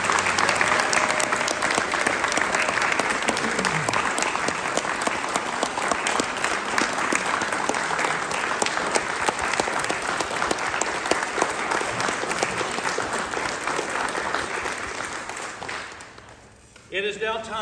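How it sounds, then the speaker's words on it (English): A large audience gives sustained, loud applause for veterans' families at a Veterans Day service. The dense clapping continues for about sixteen seconds, then fades out abruptly into brief quiet sounds. "can we have a round of applause for the families?"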